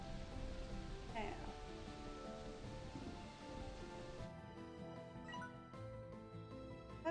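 Steady rain in the video game Slime Rancher 2, a continuous soft hiss with scattered droplet patter that holds at an even, fairly quiet level throughout, with a faint brief chirp partway through.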